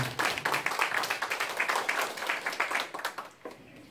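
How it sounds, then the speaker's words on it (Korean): Room of people applauding at a political party founders' meeting, a dense patter of many hands clapping steadily for a few seconds before fading out. "다시 한 번 힘찬 박수 부탁드립니다"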